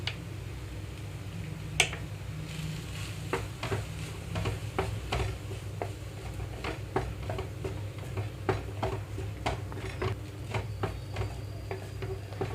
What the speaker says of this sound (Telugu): లో ఫ్లేమ్లోకి టర్న్ చేసి రైస్ కలిపేస్తున్నాను